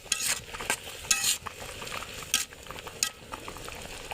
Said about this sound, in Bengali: এখন একটু ভালো মতো কষিয়ে নেব।